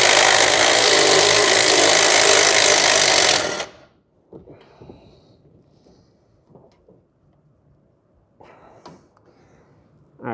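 A Milwaukee M12 2564-20 right angle impact ratchet runs loud and close for about three seconds while removing a bolt, then stops, leaving quieter handling clatter and small knocks.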